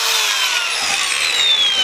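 A saw cutting through part of a truck body mount on a Colorado. It gives a steady, close, loud rasping buzz with a rising whine, continuous for the whole short stretch, with no talk.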